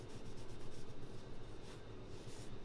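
A pencil sketches rough perspective lines on paper, a soft, steady scratching with quick rhythmic strokes, faint and close.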